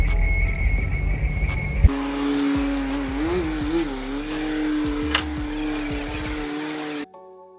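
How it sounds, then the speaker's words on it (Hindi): A 1986 Toyota Land Cruiser LJ71 three-door engine runs with a choked, faulty exhaust, giving a steady, loud drone with slight wavering in pitch before cutting off abruptly near the end. "इसका एग्जॉस्ट भी बिल्कुल जो है ना चोक हुआ हुआ"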